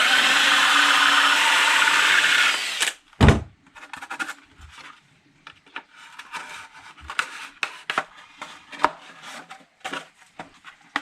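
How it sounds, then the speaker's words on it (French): A 6 mm drill bit boring into a carbon tube on a light drone frame, a loud steady whine for about three seconds, then it stops, followed by scattered close knocks and handling clatter. "on peut mettre un petit coup de mèche de 6"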